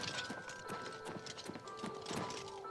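A horse in the video game The Elder Scrolls IV: Oblivion trots with a quick run of clip-clopping hooves, faint and steady, alongside a soft tonal hum.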